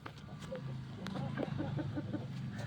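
A pet rooster named Hitler clucks in a short run of rhythmic, nasal clucks at moderate distance. Faint voices sound in the background.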